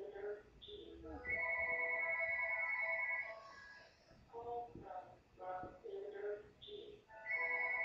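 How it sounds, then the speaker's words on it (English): A phone rings with a bright, repeating electronic ringtone of steady tonal bursts, sounding through the clip beneath a person talking nearby. "where's the phone stuff ringing?"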